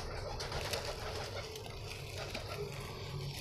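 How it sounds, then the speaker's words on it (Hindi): A female pigeon coos softly nearby, low throaty murmurs over a constant background hum. "और ये रही हमारी कबूतरी।"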